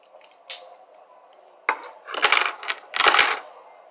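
Metal police handcuffs being handled, giving a few sharp clinks and rattles close by, with a single clack early on and two busier bursts of jingling toward the end.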